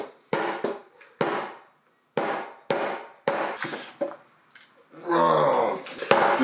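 A hammer strikes a hard surface again and again at close range, landing as a series of sharp, irregular knocks, followed by a brief scraping rustle.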